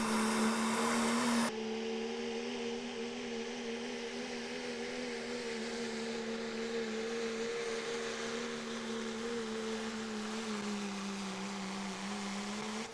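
A 2012 Dodge pulling truck at a truck and tractor pull drones under load with a steady, humming engine tone heard from a distance, after a louder, rougher burst at the start.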